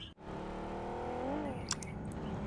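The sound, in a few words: vehicle driving in BGMI video game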